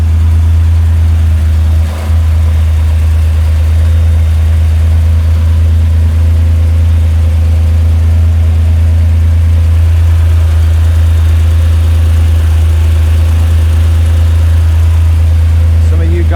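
A 1966 Kaiser Jeep CJ5 engine fitted with a Carter BBD carburetor idles smoothly and loudly up close, a steady low rumble with one brief dip early on.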